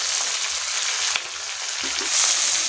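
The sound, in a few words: onions sautéing in a pan for wheat rava upma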